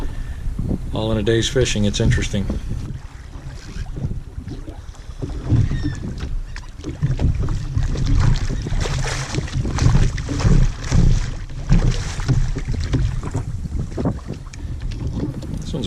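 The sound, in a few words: fishing boat jumping and knocking in the waves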